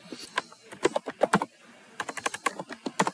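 Keys are tapped on a computer keyboard in two quick bursts of irregular, crisp clicks close to the listener, separated by a short pause, with no talking.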